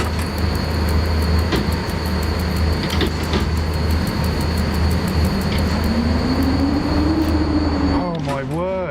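A train in the rail simulator SimRail rumbles steadily with a low drone and rhythmic clicks from the track, and a rising whine builds toward the end before brief squealing tones.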